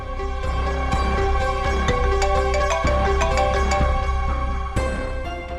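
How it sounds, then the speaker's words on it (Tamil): A phone ringtone for an incoming call plays as a loud, continuous melodic tune with a repeating rhythmic pattern, heard without any voices. "ஒரு நிமிஷம், ஒரு முக்கியமான ஃபோன் கால்."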